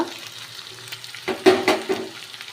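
Mixed vegetables frying in a pan with green chilies and mint leaves, a steady close sizzle that swells into a few louder bursts of stirring toward the end, with no voices.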